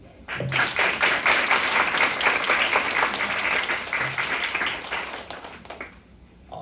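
At a Model UN closing ceremony, the audience gives a sustained round of applause, dense steady clapping that swells in quickly, holds for several seconds and then fades out.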